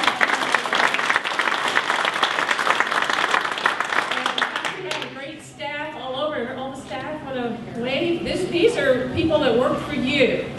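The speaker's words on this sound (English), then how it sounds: "But I just would like for you to give him a round of applause." Audience applause at a town hall meeting, a full wash of clapping for about five seconds that gives way to a person speaking, with some clapping lingering under the voice.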